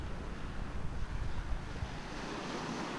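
Sea waves wash onto a boulder beach near Yalta in Crimea, a soft, continuous surging rush mixed with wind noise on the microphone, swelling slightly in the middle and then settling, with no talking.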